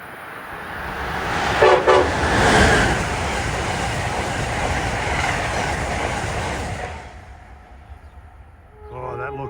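Amtrak locomotive 621 in blue livery passes near and loud with a sustained rail roar and a short horn blast, then the noise cuts off abruptly and a voice speaks briefly.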